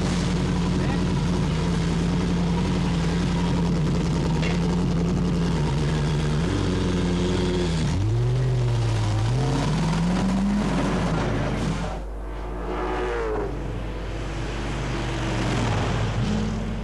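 A V8 Supercar from the 1999 championship drives through pit lane at about 60 km/h, its engine droning and shifting pitch as it passes amid a loud, constant trackside rumble, with a voice talking briefly.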